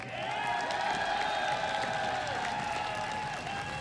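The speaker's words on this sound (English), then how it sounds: "round of applause" Crowd applause and cheering at the IEM San Jose 2015 esports award ceremony, spread steadily over a loud, sustained tonal hum from the stage.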